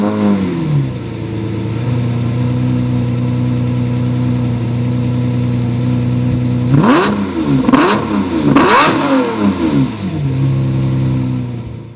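A 6.2-liter V12 in a 2006 Lamborghini Murcielago Roadster idles with a steady, deep drone, then snaps through three sharp throttle blips in quick succession before settling back to a smooth idle.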